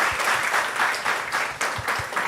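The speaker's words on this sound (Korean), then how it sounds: "우리 박수로 한번 맞이해 주겠습니다." Church congregation applauding during a Sunday worship service, dense steady clapping from many people throughout, close and loud.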